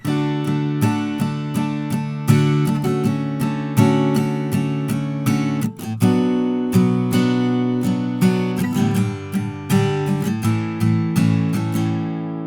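Acoustic guitar chords strummed in a steady rhythm, each chord ringing out clearly, with a short pause midway before the strumming continues.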